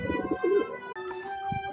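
A pigeon about to be released coos softly and steadily nearby, a low warbling call with no other sounds around it.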